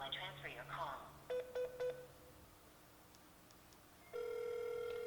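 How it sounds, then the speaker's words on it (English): An IP office telephone rings in short repeated bursts, then a longer steady tone sounds, with a voice briefly at the start. "His phone is ringing"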